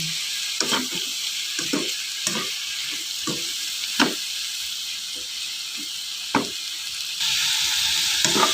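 Cabbage stir-fried in a pan for pancit canton gives a constant hissing sizzle, broken by repeated clacks and scrapes of the spatula, and the hiss swells louder toward the end; no one speaks.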